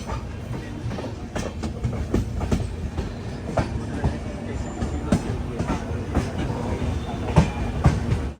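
A train rumbles and clatters along the rails, with rhythmic clicks and occasional squeals as it rolls steadily into Roorkee railway station in Uttarakhand.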